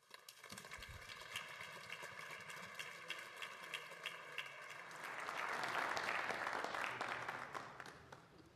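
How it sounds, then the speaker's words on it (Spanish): Assembly delegates at a ParlAmericas plenary in Ottawa applaud to adopt a declaration by acclamation, a steady roomful of clapping that swells louder toward the end and fades at the close, with no voices over it. "El aplauso es el voto afirmativo por aclamación."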